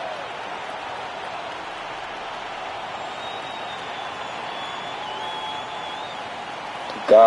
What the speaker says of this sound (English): Can I get an audio check to make sure you guys can hear the crowd and everything that's going on in game?